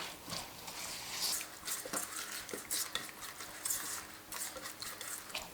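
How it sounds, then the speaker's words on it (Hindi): A spoon stirs and scrapes spices and coriander in a pot for Hyderabadi chicken dum biryani, giving repeated soft clinks and scraping strokes over a faint sizzle, close and fairly quiet. "ये सारे मसालों को हम अच्छे से मिक्स कर लेंगे।"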